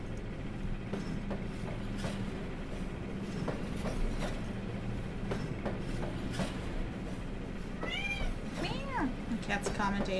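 A cat meows several times in the game The Vanishing of Ethan Carter, rising and falling cries late in the stretch over a dense rumbling, rattling background.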